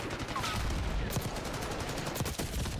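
Rapid SMG fire in the shooter game Black Ops 6 rattles in dense bursts with sharp repeated cracks, mixed with in-game action noise throughout.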